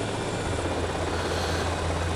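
An RC helicopter flies in Grand Theft Auto: Vice City with a constant, buzzing rotor and engine drone. The sound holds at an even level throughout, close and unbroken, with no voices.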